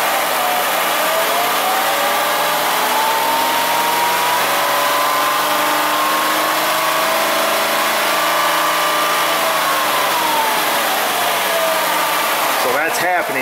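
A Ford Escape engine held near 3000 RPM, droning loud and steady with a pitch that swells and sags as it stumbles, running continuously throughout with a brief rattling burst near the end.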